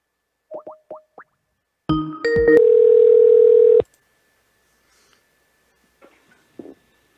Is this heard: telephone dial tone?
yes